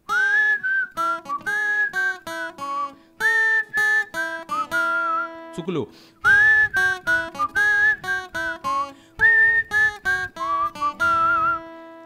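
A person whistles the melody of a Marathi song during a guitar tutorial. Clear, pure tonal phrases are separated by short pauses, with a brief noisy burst midway and a word spoken near the end.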